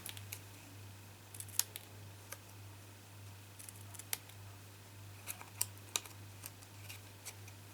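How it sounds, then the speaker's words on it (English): Scissors snip through off-cuts of card in a papercraft session, a series of quiet, sharp clicks spaced irregularly over a steady low electrical hum, with no talking. "Just try not to snip the next one off when you're doing one of them, because your scissors are going too far through."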